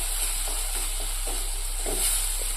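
Coriander powder frying in a hot pan for a restaurant-style ayala mackerel fish curry gives a steady, quiet sizzle, broken by regular scraping strokes as a spoon stirs it.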